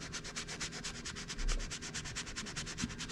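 An applicator rubbing Adams exterior dressing onto car trim, a quiet, rhythmic back-and-forth swishing repeated steadily at close range.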